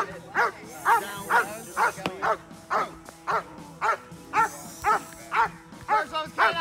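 A police K9 dog barks repeatedly in a steady, loud rhythm, about a dozen deep barks close by, with a voice shouting commands over it.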